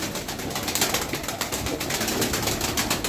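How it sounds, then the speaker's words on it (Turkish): Wings of a young Sütbeyaz tumbler pigeon flapping among a flock, a steady rustling flutter with pulsing beats, close and fairly loud, with cooing birds around and no talk. "Bakın onun bile kanat sesine bakın."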